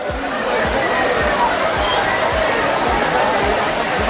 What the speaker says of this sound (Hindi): सामने झरना है